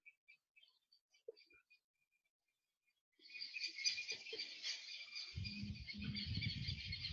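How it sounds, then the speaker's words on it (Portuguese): Small birds chirp above a classroom, giving a sparse high twittering that turns into a dense, busy chatter. Faint knocks and a low rumble sit underneath. "Estão ouvindo os passarinhos?"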